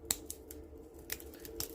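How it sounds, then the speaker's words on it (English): Scissors trim a craft branch in a string of sharp little snips and clicks, loud and close, at an uneven rhythm over a quiet hum; no one speaks. "just taking some scissors, I'm just going to start getting out"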